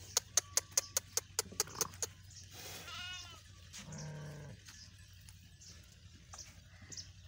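Sheep at a livestock market selling animals for Qurbani bleat in wavering calls near the middle of the recording, after a rapid series of sharp clicks or taps; background murmur and scattered farm noise continue throughout.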